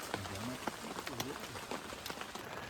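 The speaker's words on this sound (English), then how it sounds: "I got my tent up and it's raining out" Rain patters steadily on a tent at a rainy campsite, a dense close hiss with scattered drop taps, while a person speaks faintly over it.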